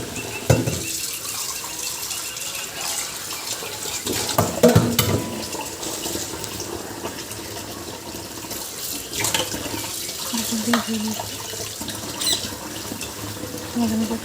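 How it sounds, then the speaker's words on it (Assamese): Dishes washed by hand under a running tap at home, a steady gush of water with clattering and knocking of plates and pots, occasional squeaks, close and moderately loud. "তাৰপিছৰ পৰা এতিয়া আকৌ এই বাচনখিনি ধুবলৈ আহিলোঁ"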